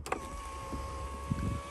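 Electric sliding roof on a 2002 Fiat Seicento Sporting whirring open with ignition on, a steady motor hum with a brief click at the start and faint clunks near the end, close and alone.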